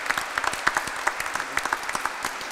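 A room of guests at a keel laying ceremony for a ship at a shipyard in Ketchikan, Alaska breaks into steady, brisk applause, with a dense patter of claps at moderate distance.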